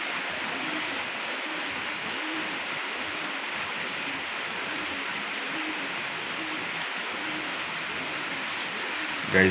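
Steady rain patters on a pigeon coop, a continuous even hiss of drops hitting the roof and surroundings without a pause, fairly close and moderately loud, with a brief bump right at the end.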